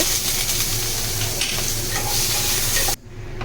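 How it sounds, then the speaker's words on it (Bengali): Potato pieces fry with salt and turmeric in a pan, giving a loud steady sizzle with faint stirring scrapes that stops abruptly near the end. "এবার আলুগুলো নুন হলুদ দিয়ে ভেজে নেব।"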